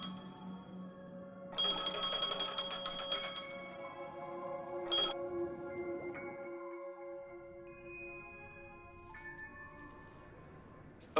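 A phone rings in the Honkai: Star Rail video game, a bright electronic ringtone repeating in bursts over soft background game music, fairly quiet overall and with no voices.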